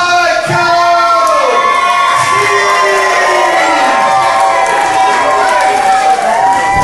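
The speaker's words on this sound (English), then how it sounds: "Fans cheering the way for Psycho Steve." A loud arena crowd at a wrestling event cheers and whoops for Psycho Steve's entrance, a constant roar with shrill shouts and rising cries layered on top.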